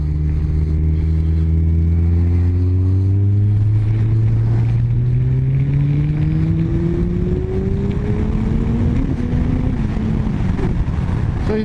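A Kawasaki ZZR 1400 hyperbike pulls hard at about half throttle. A loud, steady engine note climbs smoothly in pitch over several seconds, layered with heavy wind rush from riding at speed.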